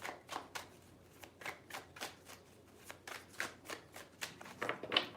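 Tarot cards being shuffled by hand in a quiet room, a run of quick riffling bursts and soft slaps repeating about twice a second, close and fairly soft, with no talking.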